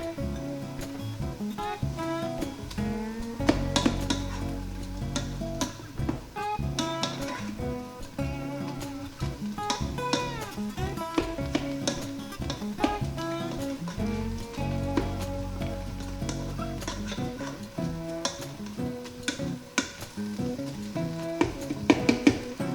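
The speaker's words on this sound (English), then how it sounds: "now we can go ahead and add in our 1 cup of diced green peppers, which is about 1 medium-sized green pepper" Diced green peppers are stirred into sloppy joe meat in a Ninja Foodi, a steady soft sizzle with frequent clacking and scraping of a utensil against the pot.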